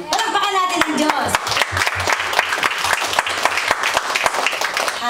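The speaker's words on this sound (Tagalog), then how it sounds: "Palakpakan natin ang Diyos." A church congregation applauds, a steady dense patter of many hands clapping close by for the whole stretch, with voices mixed faintly into the clapping.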